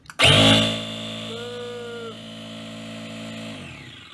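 An electric kite pump set to 8 PSI starts with a sharp kick and settles into a steady motorized hum and whine that runs on continuously, close and moderately loud, with a brief higher-pitched tone partway through.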